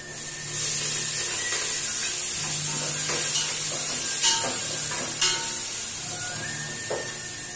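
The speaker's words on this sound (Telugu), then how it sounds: "ఇప్పుడు వచ్చేసి అవి ఫ్రై అయిన తర్వాత టమాటా ముక్కలు అలాగే కొత్తిమీర వేసుకోవాలా." Tomato pieces and coriander hit a frying pan of chicken biryani base, giving a steady loud sizzle and hiss with scraping stir strokes and light clatter, close and continuous without voices.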